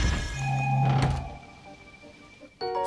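Treasure chest opening in Zelda: Tears of the Kingdom, a soft wooden thunk and creak followed by a bright chiming jingle at the end, quiet and close.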